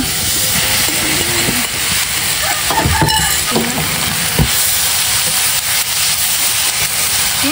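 Grated coconut and sugar being stirred in a pan for coconut jam, a continuous sizzling hiss with scattered scraping strokes of the spoon, close and fairly loud, no talk.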